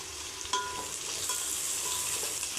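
Green chilies sauté in hot oil for prawn biryani while being stirred. Soft continuous sizzle with a faint scrape of the spoon, quiet and close, no talking.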